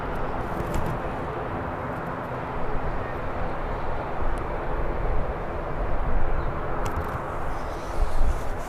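An EasyJet airliner approaching Birmingham airport, a broad steady roar of jet engine noise holding loud and even throughout, swelling slightly toward the end.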